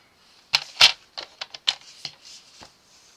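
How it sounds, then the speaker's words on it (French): Paper cut with scissors for a holiday photo scrapbook album: a close series of crisp, irregular snips with short pauses between, no voice. "Écoutez, on découpe et puis on se retrouve tout de suite."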